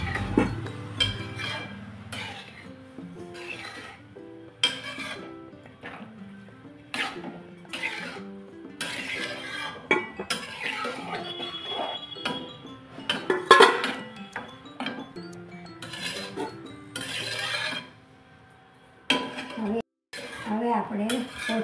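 A metal spoon stirs vegetable mogar dal with fresh coriander in a pot, producing intermittent clinks, knocks and scrapes against the rim in uneven bursts, close up, with brief pauses.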